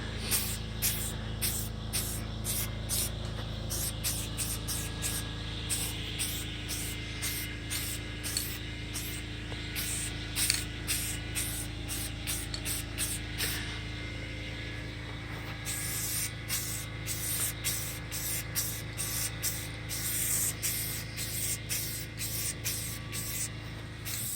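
Steady hissing spray of Raptor bedliner coating onto Toyota FJ Cruiser bumpers runs almost continuously, broken into short bursts with brief pauses, loud and close, with a low hum underneath.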